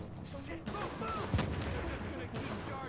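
A grenade explosion and gunfire in the video game The Division: a sharp blast cuts through a quiet, muffled mix of distant shots and game noise.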